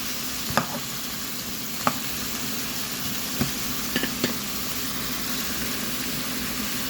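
Zucchini and meatballs fry in a pan under a steady sizzle while a utensil stirs them, scraping and clacking against the pan a handful of times at irregular intervals.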